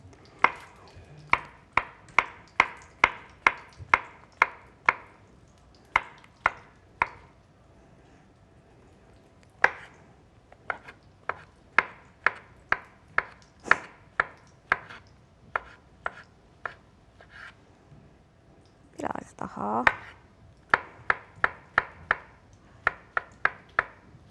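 Knife chopping mushrooms on a board in a kitchen, a long series of sharp, close taps in quick rhythmic bursts with short pauses between runs.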